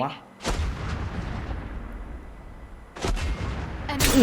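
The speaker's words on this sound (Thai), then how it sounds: "เฮ้ยมีคนมายิงอ่ะ ใครยิง" Heavy gunfire booms in the Farlight 84 shooter game, with three loud blasts spaced a few seconds apart and a low rumbling tail that lingers between them.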